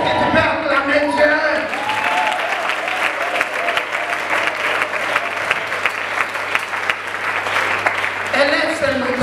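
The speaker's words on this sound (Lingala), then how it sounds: "Est-ce que tu peux acclamer Dieu?" A church congregation applauds and cheers to acclaim God, a sustained roar of clapping and shouts filling the room throughout, with voices rising at the start and end.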